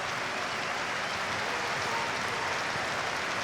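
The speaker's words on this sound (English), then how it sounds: "there's a standing applause here, the 60th minute, in support of former Sunderland manager Tony Mowbray" A football stadium crowd at Sunderland gives a sustained standing applause, a steady, even wash of clapping that fills the whole span at moderate loudness with no pauses.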